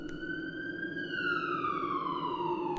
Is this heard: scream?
no